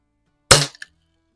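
Daisy wide body BB gun fired at a target, giving a single sharp crack with a quick metallic clink of the hit just after, close and alone against silence.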